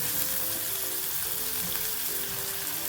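Finely chopped onion sizzles steadily while frying in a pan and is stirred now and then, a continuous close, dense crackle with no talk, for a quick onion and tomato curry.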